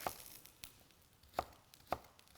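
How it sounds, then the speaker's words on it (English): A knife chops green onions on a cutting board in a home kitchen, a few sharp, separate taps spaced irregularly against a quiet room, close and crisp with no voices. "just dice up some green onions"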